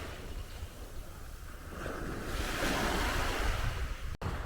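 Waves wash onto a beach of the Seto Inland Sea, a soft surf hiss that swells louder midway as a wave breaks, with some wind buffeting the microphone and no voices.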